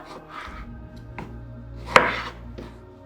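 A knife cuts a tomato into four large pieces on a board, giving several close, crisp chops, the sharpest one midway.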